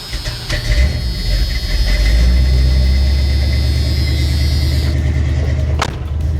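A square body Chevy truck with a homemade budget exhaust rumbles close by, a deep steady idle with a slight throttle rise, then settling near the end.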